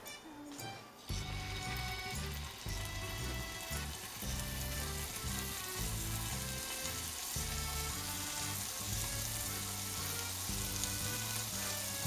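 Scallops sear in a hot pan of butter and oil, giving a steady, dense sizzle that runs through the whole stretch alongside background music.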